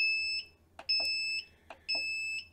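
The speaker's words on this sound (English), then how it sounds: "We have the red light. We have the full-time beep." A 1500W ALFFAA power inverter sounds its low-voltage alarm as a piercing, steady electronic beep repeating about every half second. Fainter clicks and knocks come between the tones.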